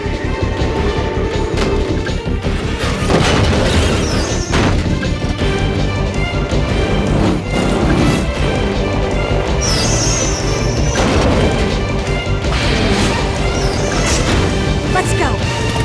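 A bomb planted on a bridge strut blows up in Metal Gear Solid 3, with loud crashing impacts and booms over dense, continuous game music and effects.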